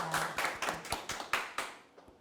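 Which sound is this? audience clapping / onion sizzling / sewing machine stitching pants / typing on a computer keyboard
audience clapping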